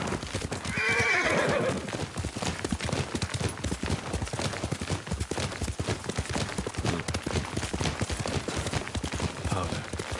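Rapid hoofbeats pound steadily throughout as a horse gallops in the video game Ghost of Tsushima, with a whinny early on, loud and close.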